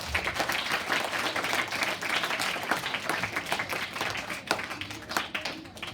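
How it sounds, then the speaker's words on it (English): Audience applause fills a school Independence Day assembly hall after a Grade 1 children's performance, steady dense clapping from a crowd lasting throughout at moderate volume. "let us give her a big round of applause."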